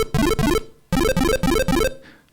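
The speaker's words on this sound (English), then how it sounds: "these very quick arpeggios that they used to use in old computer games and Spectrum games" Rapid, buzzy chiptune arpeggios from an Arduino synthesizer race upward in short bursts, two then three, separated by a brief gap, loud and close.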